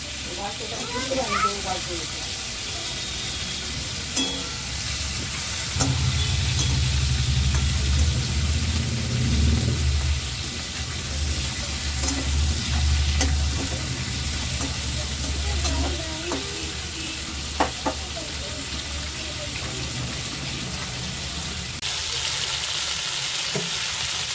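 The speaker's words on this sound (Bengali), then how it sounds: "সব চিংড়ি মাছগুলো তো ভালো ভাজা হয়ে গেছে" Prawns fry in hot oil with a continuous hissing sizzle, and a low rumbling hum rises in the middle stretch before fading back.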